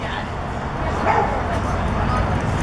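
A small adoptable dog gives a brief yip or bark amid steady background noise, with people talking nearby.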